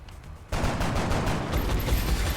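Soldiers open fire in the XCOM Long War video game: after a brief quieter moment, a dense loud burst of rapid gunfire erupts and continues steadily to the end.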